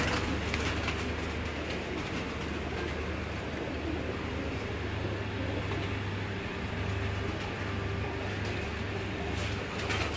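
Neel dum breed pigeons cooing in a loft, a continuous low murmur of overlapping coos with steady background noise throughout.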